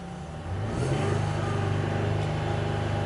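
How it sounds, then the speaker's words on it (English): Jeep Gladiator 3.6 Pentastar V6 engine revs up from a cold idle, the steady mid-pitched drone climbing and holding loud and close for several seconds, with no voices over it. "Let's rev it up and see what happens."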